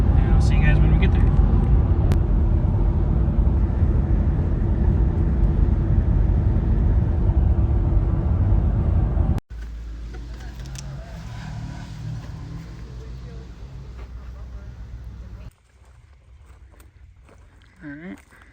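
A car driving along a road, with a loud, steady engine and road rumble filling the first half, then a quieter cabin drone that drops again near the end.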